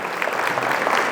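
Applause from an Anchorage Chamber of Commerce audience after a senator's address, a short burst of steady, moderately loud clapping from many hands with no voice over it.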